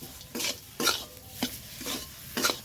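Banana flower filling for mochar chop, seasoned with garam masala and sugar, stirred in a hot pan, with about six separate scraping strokes and a soft sizzle between them, close and moderately loud, no voices.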